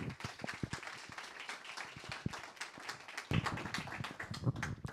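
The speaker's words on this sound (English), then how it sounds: "Please give her a warm round of applause" An audience at a Startup Grind event in Vienna claps to welcome a speaker on stage, producing a dense, fairly quiet patter of many hands that swells slightly toward the end.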